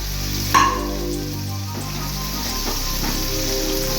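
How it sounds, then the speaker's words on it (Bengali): Green peas frying in a hot pan for fried rice, giving a steady close sizzle and crackle, with a brief scrape or stir near the start. "তাতে একটু ভাজা হয়ে যাবে কড়াইশুঁটিটা"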